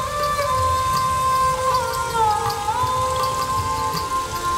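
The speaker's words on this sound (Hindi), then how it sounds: "देखिए कितनी तेज बारिश हो रही है।" Heavy rain pours down in a steady dense patter, loud and continuous throughout, with a faint tonal hum running underneath and no talking.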